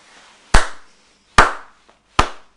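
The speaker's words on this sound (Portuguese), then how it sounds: "Palmas." Three sharp, close hand claps, evenly spaced about a second apart, each ringing briefly in an otherwise quiet room with no talking.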